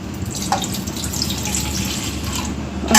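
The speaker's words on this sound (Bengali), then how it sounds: "একটু পানি দিয়ে আগে নারকেলটা প্রথমে ধুয়ে নেবো দুই তিনবার করে করে ধুয়ে নেব" Water poured and splashed over a coconut being rinsed by hand, a steady close trickle with a brief splash near the start and a louder gush at the end.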